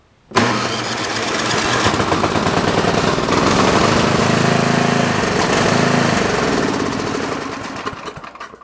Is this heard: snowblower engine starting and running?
yes